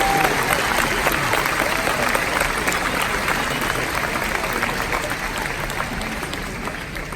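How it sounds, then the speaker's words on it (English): University commencement audience applauding graduating students, broad sustained clapping from a large crowd that gradually tapers off toward the end. "let's give a round of applause for these extraordinary students."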